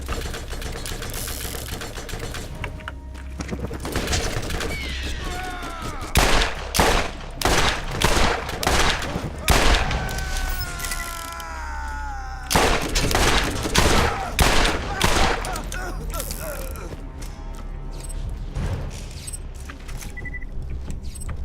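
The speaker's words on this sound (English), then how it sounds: "So many shots." Bursts of rapid gunfire from Tediore weapons in Borderlands 1, fired in two dense clusters of quick shots over steady game background sound.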